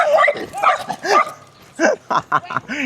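An angry dog barks repeatedly up close while chasing someone, loud yapping bursts in an uneven rhythm with a brief pause in the middle.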